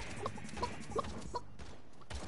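A chicken in the video game Realm Royale gives several soft clucks at a steady pace, faint beneath constant gameplay noise.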